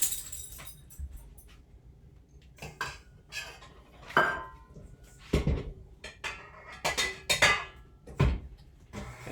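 Butter, brown sugar and salt are creamed in a bowl for cookies, with a utensil clinking and scraping against the bowl in quiet, irregular knocks and rattles.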